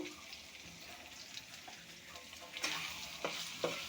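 Turmeric and chili powder frying in oil while being stirred for a papaya ghonto, a quiet sizzle with scraping stir strokes that grow louder and sharper in the last second and a half; no speech.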